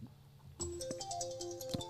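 Phone ringtone in a courtroom setting, a short, faint electronic melody of a few tones starting after a moment of quiet.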